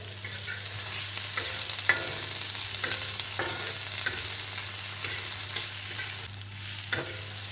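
Onion and tomato with curry leaves sautéing in a pan for kothu parotta: a steady, close frying sizzle broken by occasional soft spatula scrapes and taps, with no talking.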